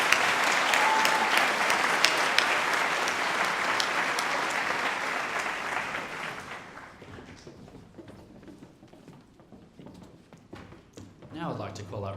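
Audience at a high school Year 12 graduation ceremony applauding graduates, loud dense clapping for about six seconds that then thins to scattered claps, followed by a voice speaking.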